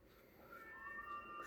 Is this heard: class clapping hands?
no